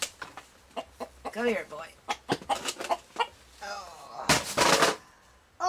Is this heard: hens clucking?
yes